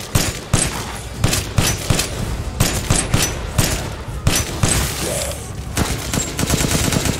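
Sustained machine gun fire rattles through a combat scene in the video game Resident Evil Village, with dense, loud bursts of shots layered with other gunfire and game effects, continuous across the whole stretch.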